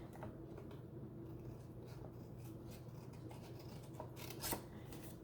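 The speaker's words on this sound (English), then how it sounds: "you take your scissors" Quiet, close scissors snipping through card, a series of small crisp cuts and rasps over a faint background hum.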